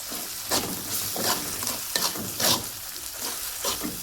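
Peanuts and green chillies fry in a pan and get stirred, with a steady sizzle broken by repeated scraping strokes roughly every half second, close and moderately loud, with no voices.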